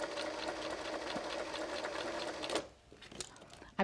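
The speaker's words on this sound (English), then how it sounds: "So my machine continuously sews." A sewing machine runs continuously while stitching patchwork, a steady close mechanical whir for about two and a half seconds before it stops, followed by a few quiet clicks and handling sounds.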